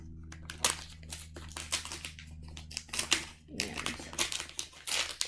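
Wrapping paper crinkles and tears in close, irregular bursts as a gift-wrapped book is unwrapped, with a person talking over much of it.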